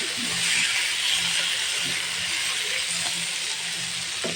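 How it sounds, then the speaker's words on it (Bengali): Ginger garlic paste sautés in a pan, giving a steady, close hiss of sizzling oil with a few faint scrapes of stirring underneath. "এটা 1 চামচের মতন আদা রসুনের পেস্ট দিলাম। এখন এটাকে ভালো করে একটু কষিয়ে নিতে হবে।"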